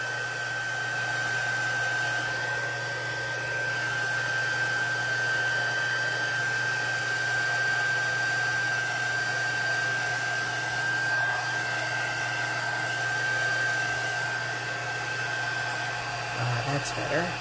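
A heat tool runs continuously while warming cardstock for an ombre color block card, a steady, moderately loud whooshing hum with a faint high whine, unbroken for the whole span.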